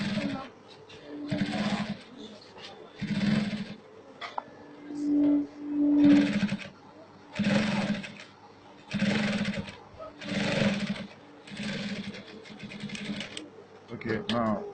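A sewing machine stitches along both sides of a fabric flap in repeated short bursts of rattling, separated by pauses, with some talking between runs.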